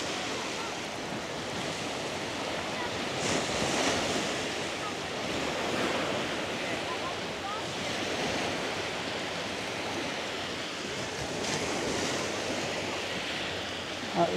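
Ocean surf rolls steadily onto a beach at Hua Hin, a continuous broad wash of breaking waves with gentle swells in loudness, close and loud, mixed with some wind buffeting the microphone.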